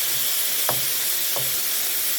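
Onions frying on a hot griddle beside smashburgers, a loud continuous sizzle with two brief scraping stirs breaking through the hiss.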